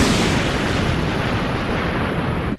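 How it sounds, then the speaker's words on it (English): A continuous, thundering roar of explosive noise, broad and dense, holding steady at high volume for a few seconds before cutting off. "Or a volcanic explosion."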